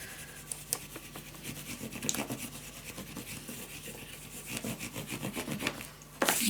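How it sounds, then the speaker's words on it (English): A tool burnishes paper craft pieces for a Halloween pop-up mini album, giving soft, repeated rubbing and scraping strokes up close at a low level, with a brief sharper scrape at the end. "I like to just flip it around and just burnish everything down."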